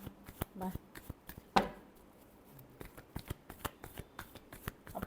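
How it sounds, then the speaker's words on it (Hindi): Tarot cards being shuffled in a rapid run of crisp, papery riffles and taps close up, with one sharper snap partway through and quiet pauses between bursts. "Last shuffle."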